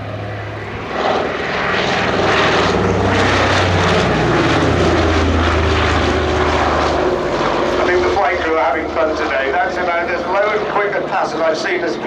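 Consolidated PBY-5A Catalina flying boat at an airshow flypast, its piston engines droning loud and steady as the aircraft passes low and close, with a commentator talking over the sound throughout.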